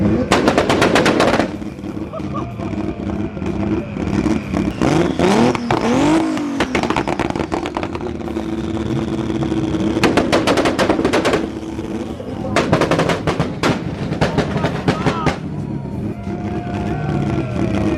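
Toyota Supra on two-step launch control, loud rapid-fire exhaust pops and bangs in bursts between rising engine revs, with voices talking over the noise.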